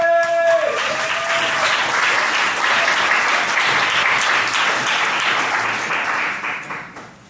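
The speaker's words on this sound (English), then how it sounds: "Round of applause." A slam poetry audience bursts into loud, sustained applause that holds steady for several seconds, then tapers off near the end; a brief tonal sound rings out at the very start.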